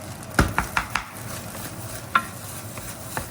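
Bacon fried rice with egg being stir-fried in a pan: a few sharp clinks of a utensil against the pan over a soft, low sizzle, close up, with a cluster of knocks early and another single clank later.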